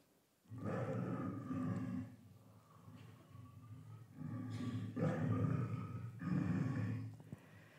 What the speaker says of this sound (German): Löwen können brüllen bis zu 114 Dezibel laut